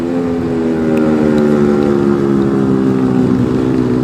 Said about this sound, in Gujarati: આખી રાઈડમાં એકની બાઇક લાઉડ કરે છે